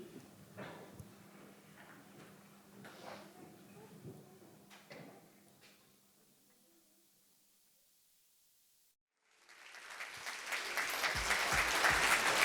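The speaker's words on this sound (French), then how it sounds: "merci pour vos applaudissements" Festival audience at a film screening breaks into loud clapping after a quiet stretch of murmuring voices and a brief silence, swelling and holding strong at the end.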